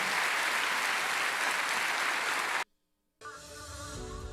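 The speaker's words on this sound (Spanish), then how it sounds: "Dale un aplauso grande al Señor." Large church congregation giving loud, sustained applause that cuts off abruptly into brief silence, followed by music.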